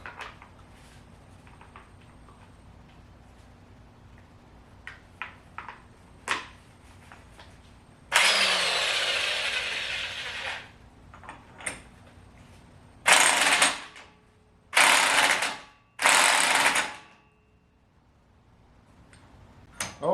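An impact wrench tightens the axle nut on a Chevy Tahoe during a home wheel bearing and CV axle install: a long rattling burst, then three shorter hammering bursts, loud and close amid faint ticking.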